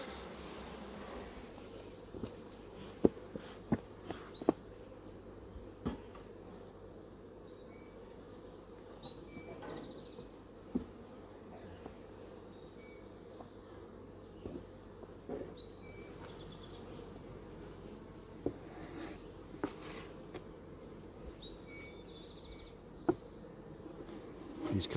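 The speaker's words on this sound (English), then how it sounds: "A lot more bees up top here than last time I opened it up." Honeybees buzz steadily around an open hive with upper honey supers, a soft continuous drone with occasional sharp clicks and knocks of handling, no voices.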